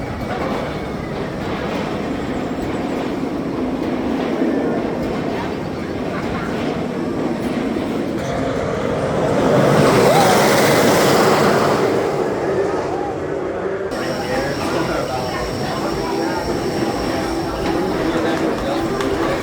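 Millennium Force roller coaster at Cedar Point: a steady, loud rumbling roar of the train on its track, with clattering wheels and wind noise swelling midway through the ride.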